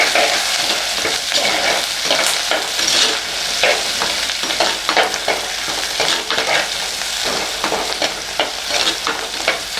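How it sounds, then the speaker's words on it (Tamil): Curry leaves and green chillies sautéing in hot oil for a viral fish curry, a steady crackling sizzle with stirring scrapes running throughout, close and loud with no talk. "கருவேப்பிலையும் அதிகமாக போடணும். பச்சை மிளகாய் நல்லா வதங்கிடணும்."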